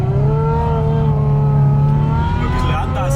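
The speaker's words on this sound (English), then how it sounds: "This is V12 Ferrari, er fährt jetzt schon quer, versus the snow" A V12 Ferrari F12 engine drives sideways through snow, a loud, steady close-up roar with gradually rising revs over the full stretch, a voice talking faintly beneath it.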